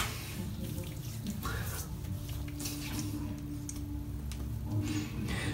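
Tap water runs steadily into a sink during a wet shave with a Karve CB razor and Gillette Spoiler blade, a continuous close splashing wash with a low hum underneath.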